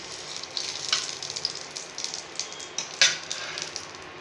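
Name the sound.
three dried red chillies frying in oil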